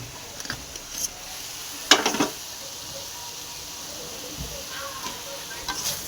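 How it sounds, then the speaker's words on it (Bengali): Fried potatoes tipped into a pan of sizzling spices with Kashmiri chili powder, a soft steady hiss broken by a brief louder clatter and sizzle burst near the middle. "ভেজে রাখা আলুটাকে এবার দিয়ে দেবো।"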